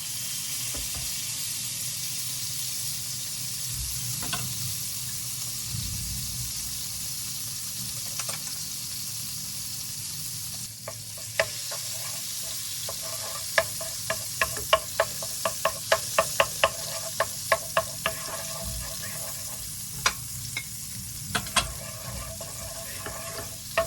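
Butter sizzling in a frying pan at the start of cooking honey glazed chicken wings: a steady, close hiss, with sharp utensil knocks and scraping clustering in the second half.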